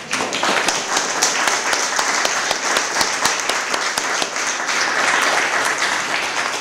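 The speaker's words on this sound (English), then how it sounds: "Let's applaud ourselves here again today" Audience applause at a poet laureate recognition ceremony, dense sustained clapping from a crowd filling the room evenly throughout, loud and continuous without breaks.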